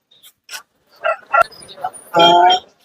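Native Kombai puppies at the Kunnathur weekly dog market give short high yips and barks, close by, mixed with people talking nearby.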